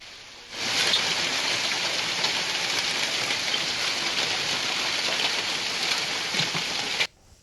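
Heavy rain with hail falls in Malali village, Hassan taluk, Karnataka, a loud, dense, continuous roar of pelting drops that starts abruptly and cuts off near the end.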